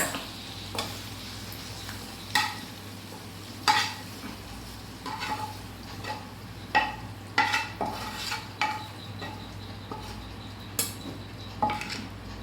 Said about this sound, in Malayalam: നമ്മുടെ വെണ്ടയ്ക്ക ഫ്രൈ ഓക്കെ ആയിട്ടുണ്ട് അപ്പം നമ്മളതൊരു പാത്രത്തിലേക്ക് മാറ്റി വയ്ക്കുക